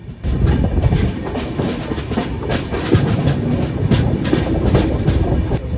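Kakinada Town–Lingampalli Special Express (07445) rolling along near Tanuku, with a steady dense rumble of wheels and regular clickety-clack joint beats, loud and close throughout, no talk.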